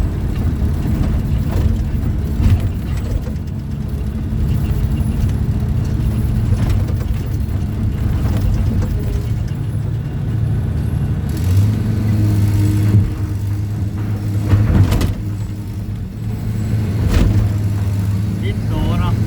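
An old car without a low-range gearbox creeps along a narrow road in Thailand with the accelerator eased, its low, steady engine drone running continuously beneath ongoing conversation.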